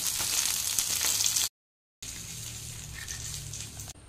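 Sardines frying in hot oil, a steady bright sizzle and crackle close by, broken by a short silent gap before the sizzling resumes.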